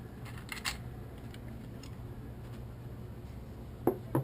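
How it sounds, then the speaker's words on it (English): The bolt assembly of a Remington 870 Super Magnum pump shotgun is taken apart, giving a few faint, close metallic clicks and taps: one early, then a quick cluster near the end, over a quiet room. "You take your whole bolt assembly right apart."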